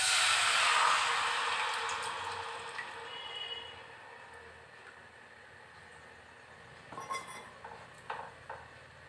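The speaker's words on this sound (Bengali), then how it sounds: "এর মধ্যে আমি তেঁতুলের এই পাল্পটা ঢেলে দেবো।" Tamarind pulp is poured into hot oil in a pan and bursts into a loud, bright hiss that fades over several seconds. A few metallic clinks of utensils follow near the end.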